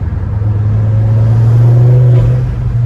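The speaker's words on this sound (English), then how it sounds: "See if I can get you some nice exhaust sounds" A Ford Focus ST 225 engine drones steadily with a low exhaust rumble, loud and close, rising slightly as it revs while driving.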